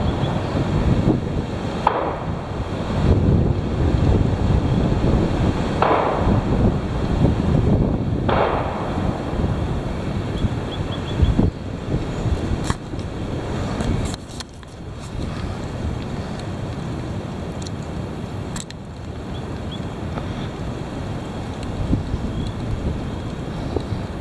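Heavy wind roars steadily and close for the whole stretch, buffeting the microphone in loud gusts with deep rumbling surges and brief dips, a boat-on-water wash mixed through it, no voices.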